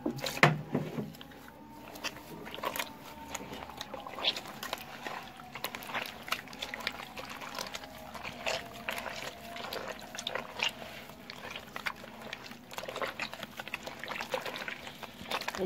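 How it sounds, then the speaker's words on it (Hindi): Water is poured and trickles into rice flour dough in a kitchen, a soft, continuous faint liquid sound with light scraping and mixing noises throughout. "अब हम इसमें ऐड करेंगे पानी"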